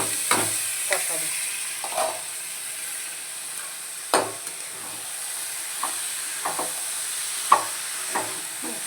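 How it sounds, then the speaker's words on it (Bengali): Banana flower tossed into spice masala in a pan, with a steady low sizzle and hiss broken by sharp spatula scrapes and stirring clatters spaced through the clip, no voices. "এখন আমি মোচাটাও দিয়ে দেবো, তারপরে কষাবো"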